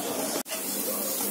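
Chilli powder, turmeric and salt roasting in oil in a pan give a steady, close sizzling hiss that runs throughout, with one abrupt instant of silence near the start.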